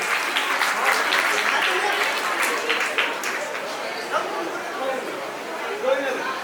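An audience at a Jain Kshamavani festival gathering at a Digambar temple applauds a girl, with sustained dense clapping from a crowd and murmured chatter mixed in.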